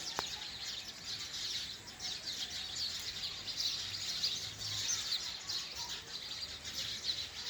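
Sparrows chirping steadily in a rural village setting, a dense, continuous chatter of many small calls at moderate distance, with no talking.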